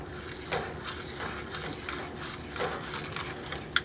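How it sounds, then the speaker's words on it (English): A rotary cutting tool working through armored MC cable, with soft repeated ratcheting clicks over a low steady hum, quiet and close, ending on a sharper snap. "I need to make a Roto a cut here with this tool, the armor cable cutting tool"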